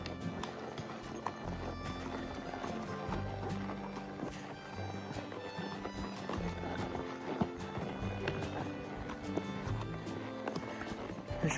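Hooves clip-clop steadily on a trail horseback ride near Ten Sleep, Wyoming, with a soft continuous rhythm close by, mixed with rustling, tack sounds and an occasional whinny.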